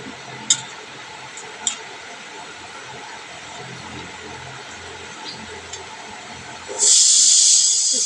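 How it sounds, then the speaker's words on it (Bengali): A pressure cooker whistle blasts steam loudly and steadily near the end, following a quiet kitchen background with a couple of small clicks. "সিটি মেরে দিয়েছে আবার"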